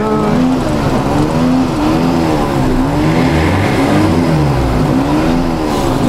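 A car engine with its exhaust removed revs loudly and continuously, its rough, throaty note rising and falling in waves close up.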